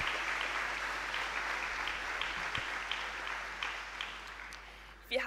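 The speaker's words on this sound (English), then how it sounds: "each and every one of us deserves loud cheers and applause today" Steady applause with some cheering from a crowd honouring graduating pupils at an Abitur certificate ceremony, sustained and fairly even throughout before a brief louder burst at the very end.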